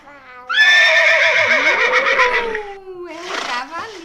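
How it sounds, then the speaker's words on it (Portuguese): A horse whinnies in a long, loud, quavering call that falls in pitch, followed by a shorter snorting neigh, heard up close in an animal sound-guessing game. "É um cavalinho."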